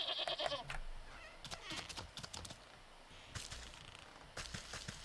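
A goat bleats in the video game Wytchwood, a short quavering cry at the start followed by sparse clicks and taps over quiet background ambience.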